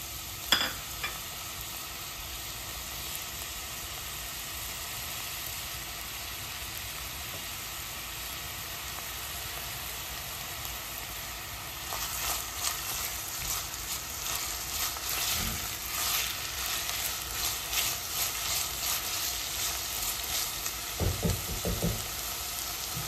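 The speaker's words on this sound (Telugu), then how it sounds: "ఆనియన్ ఫ్రై అవుతూ ఉన్నాయి" Onions sizzle in hot oil for a mushroom masala curry, a steady soft frying hiss with occasional stirring scrapes growing busier toward the end, no voices.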